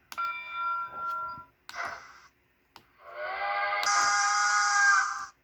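A model train sound module sounds a synthesized steam whistle in several separate harmonic toots, the last one long and swelling as its pitch shifts, with no voices.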